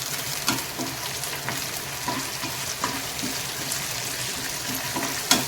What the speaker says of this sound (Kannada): ಈ ಥರ ಇದನ್ನು ಫ್ರೈ ಮಾಡ್ಕೋಬೇಕು.